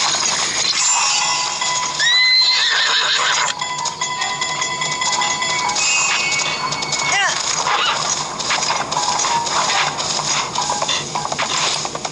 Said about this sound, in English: I'm gonna take their horse.